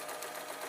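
A sewing machine stitches fabric in a quiet home craft setting, a soft, even mechanical whirr heard alone for under a second.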